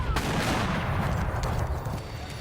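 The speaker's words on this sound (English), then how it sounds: "The Battle of Palo Alto began with the roar of cannon fire and quickly turned into an artillery duel." Heavy cannon fire in an artillery duel at the Battle of Palo Alto in the US-Mexican War, a dense, continuous rumbling roar of booming blasts that fills the whole stretch.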